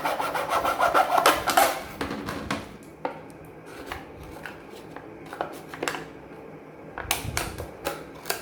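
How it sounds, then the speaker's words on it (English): A plastic bottle is being cut in half by hand, with dry scraping and crackling cuts in irregular bursts, louder at the start and again near the end, close by. "we are cutting this bottle into half"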